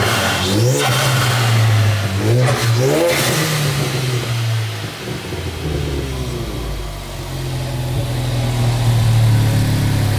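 A Ford Focus RS engine with a turbo blow-off valve revs hard in repeated bursts, the pitch sweeping up and down, then settles into a loud, rough idle.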